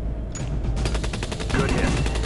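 Rapid automatic gunfire in the video game Drone Shadow Strike starts after a short pause and rattles on steadily as a fast string of close, loud shots.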